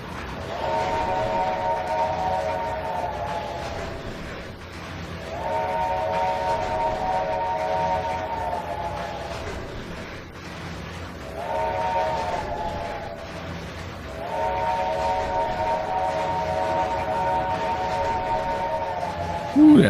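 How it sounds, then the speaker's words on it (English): A steam locomotive whistle sounds in Trainz 2022 on the C&O Hinton line: four long, steady chime blasts with short gaps between them, the last one held longest, loud over a low rumbling train background. "Ooh, that last whistle had to be long."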